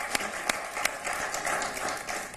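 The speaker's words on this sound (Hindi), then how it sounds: "आपकी तालियां बजती रहे ताकि उनको चलने में आसानी हो" Steady applause from a poetry event audience, dense clapping with a few sharper claps standing out, continuing evenly throughout.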